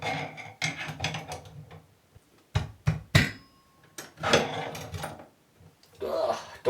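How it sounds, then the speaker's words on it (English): Close, irregular knocking on a stuck bathtub drain linkage: short bursts of sharp hard raps separated by quiet pauses, with no one talking. "maybe do some little more knocking."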